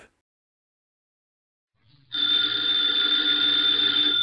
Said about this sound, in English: the ringing of that phone bell means mystery, adventure